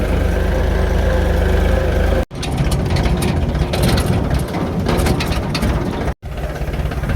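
A farm tractor's engine runs steadily, its low mechanical rumble and rattling close by, interrupted by two brief dropouts before chugging on.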